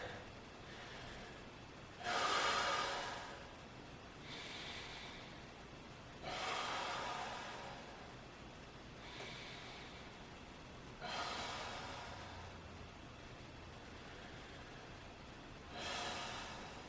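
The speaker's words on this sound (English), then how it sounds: "Breathe in about 5 times to establish a good rhythm, all the way in, all the way out." Deep, deliberate breaths from a bodyweight workout warm-up repeat in a slow, steady rhythm, each long airy inhale or exhale rising clearly every few seconds above a quiet room, close to the listener with no talking.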